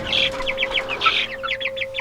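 Cornish cross meat chickens cluck and cheep in quick, overlapping bursts close by, a busy chatter from a flock of young birds with a steady electrical hum beneath.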